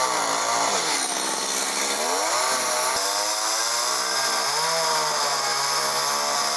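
A motor chainsaw at a volunteer wooden building site whines loudly and close by, its engine pitch rising and dipping as it cuts without pause.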